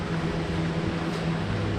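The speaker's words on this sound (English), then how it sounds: "that sound you hear, I can actually turn off right now. I got a fan blowing through." An electric fan blows air under a tarp shelter during heavy rain, producing a steady, close, broadband whoosh with a low hum underneath and no break for the whole stretch.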